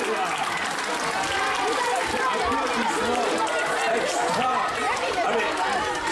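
Collégiens de 5e applauding at a mathematics show in Fayence, a steady loud wash of clapping blended with crowd chatter and voices, sustained without a break from start to finish.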